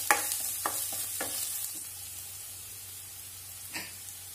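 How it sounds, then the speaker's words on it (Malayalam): Sliced onion sautés in a pan, a steady close sizzle with a few sharp scraping stirs near the start and another stir toward the end. "ഒരല്പം സവാള അരിഞ്ഞ് ചേർത്ത് കൊടുക്കാം. ഇനി ഇതൊന്ന് വഴറ്റുക."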